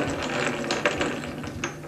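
Hand-cranked Bioscope film projector mechanism turning, a steady close ratcheting clatter of gears and pawls running continuously without any voices.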